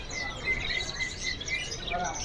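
AFS canaries at a bird market chirp in short, bright repeated notes over a steady hum of market noise, with the singing sitting fairly close and continuing through the whole stretch.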